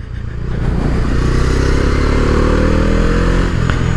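A 2020 Bajaj Dominar 250 motorcycle engine revs hard toward its redline, a loud, steady, high-pitched mechanical roar that holds close and sustained after a brief rise at the start.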